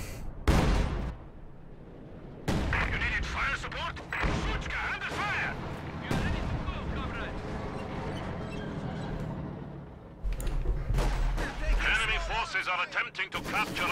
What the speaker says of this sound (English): SU-76 barrage coming in on Devils Brigade's troops.